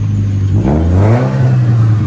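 A Toyota Altezza with a modified exhaust revs up loudly and close by, its deep engine note swelling and climbing in pitch for a couple of seconds.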